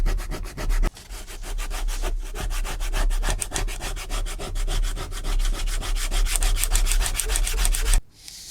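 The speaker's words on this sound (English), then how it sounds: "I'm scratching up the leather to expose the fibres, helping the glue have something to bond to." Rapid, rhythmic back-and-forth scratching on a leather surface to roughen it and raise the fibres for gluing, close and steady, stopping abruptly near the end.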